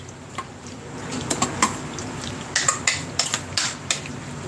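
Beef sautéed with garlic in a pan for salpicao, a low sizzle under repeated sharp metal clinks of a utensil scraping and tapping the pan.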